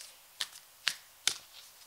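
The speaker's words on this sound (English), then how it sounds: "So I'm going to give the cards a bit of a shuffle" Tarot cards shuffled by hand in three short, crisp riffling bursts spaced evenly about half a second apart, close and fairly quiet against a silent background.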